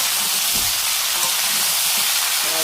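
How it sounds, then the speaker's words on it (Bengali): Vegetables sizzle steadily in a hot pan as a utensil stirs them, with a continuous frying hiss and a few soft scraping knocks, close and without talk. "ভালো করে এটা নাড়িয়ে দেবো, সুন্দর করে নাড়িয়ে দিলাম"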